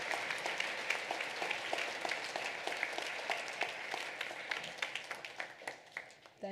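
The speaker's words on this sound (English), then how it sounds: "Let's give a great big round of applause to all these readers." Steady audience applause for student readers at an elementary school awards ceremony, a sustained round of many hands clapping at moderate distance that thins into a few individual claps near the end.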